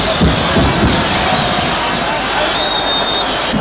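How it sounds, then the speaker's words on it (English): South African football fans cheer and roar after a goal, a dense, steady crowd noise with faint whistles and shouts that holds throughout. "the man who's got the fans cheering"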